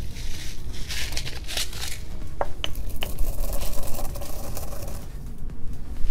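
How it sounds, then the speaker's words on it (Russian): Coriander seeds being ground in a mortar with a pestle: scraping, crunching strokes and sharp taps of pestle against the bowl, close and continuous, with no voices. "Из специй берем кориандр и в ступе его хорошо размолим."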